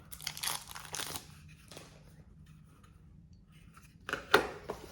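Packaging around a Braun Series 5 shaver charging stand being unwrapped: crinkly plastic rustles and crackles in short bursts, close and fairly quiet, with a lull between the opening and closing handling noises.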